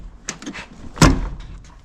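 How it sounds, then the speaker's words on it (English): The door of a damaged Ford Mustang 5.0 bought at auction opens with a light rattle and then shuts with a solid latching thunk, close by and without speech. "this door actually looks like it's pretty good. And amazingly, it still opens and latches."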